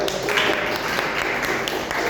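Brief burst of audience clapping at an Islamic study group session, a steady dense patter of many hands filling the room without pause for about two seconds.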